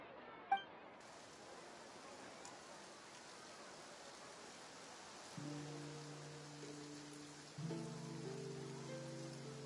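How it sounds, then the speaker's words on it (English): Steady rain falls in the Genshin Impact video game, a continuous hiss with light drip-like clinks near the start, joined later by sustained game music tones. "Looks like rain."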